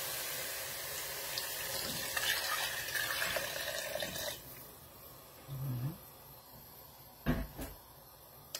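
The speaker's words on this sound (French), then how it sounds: "Voilà, j'ajoute un peu d'eau." Water poured into a pan of Creole crab sauce, a steady splashing pour for about four seconds, then softer bubbling and a few short knocks and clatters near the end.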